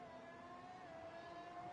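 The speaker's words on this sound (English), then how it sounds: "As you hear the Mercedes engine struggling as he spins" A Mercedes racing car's engine strains and whines in a spin in a racing game, a steady droning tone with wavering pitch, faint and without voices.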